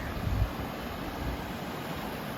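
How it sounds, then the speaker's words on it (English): A small mountain waterfall pours into a high alpine lake above the tree line at about 10,500 feet. It makes a steady, broad rushing roar that stays even and continuous, close by, with no talk. "So then this little waterfall jumps right into the lake"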